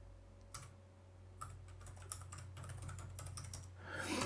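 Quiet keyboard typing as a formula is entered in Microsoft Word, a few sparse key taps at first building into a faster run of soft clicks over a low steady hum.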